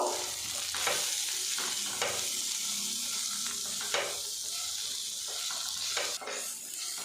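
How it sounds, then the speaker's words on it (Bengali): Potatoes and pointed gourd with poppy seeds fry together in a pan, giving a steady close sizzle broken by regular scraping stirs of the spatula every second or so, with no talk. "এবারে এগুলো একসঙ্গে ভাজা ভাজা করে নেব।"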